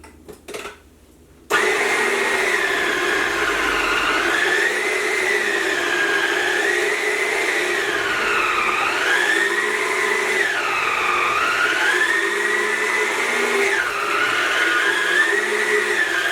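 A Yonanas frozen treat maker grinds frozen strawberries and banana with a steady, loud motor whine whose pitch rises and dips as the fruit is pushed through, running continuously after a brief quieter start.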